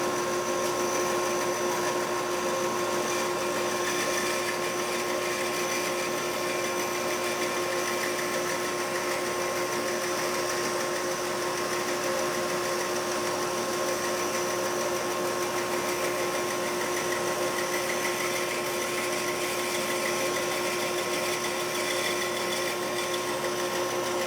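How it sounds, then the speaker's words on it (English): Bandsaw running steadily with an Accu-Slice jig, slicing a thin wood piece about 50 thousandths of an inch thick; a constant loud mechanical whine and hum holds unbroken throughout with no talk. "now we're ready to run this through the saw"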